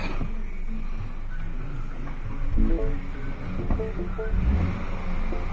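A third-generation Mini Cooper engine starts after new spark plugs are fitted, then rumbles steadily at low pitch, idling with a few brief revving swells, close by and fairly loud.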